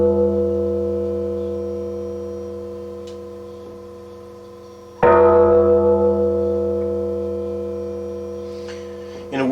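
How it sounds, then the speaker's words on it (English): A temple chime voiced on a Roland XV5080 synthesizer strikes twice, each time a bright metallic onset settling into a long, steady ringing tone with low hum-like partials that slowly decays, alone with no talk. "For instance, the temple chime"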